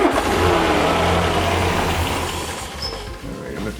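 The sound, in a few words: 1967 Land Rover Series 2A engine revving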